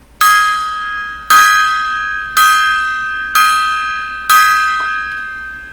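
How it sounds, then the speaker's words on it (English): Five evenly spaced strikes of a ringing bell sound as a memorial salute, each loud and clear with a long shimmering decay into the next. "So we do a 5-bell salute for Steve"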